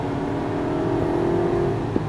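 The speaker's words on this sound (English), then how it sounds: "A little acceleration here." A 2011 Scion xB picks up speed under light, partial throttle, a steady engine hum and road noise rising slightly from inside the cabin, with a small knock near the end.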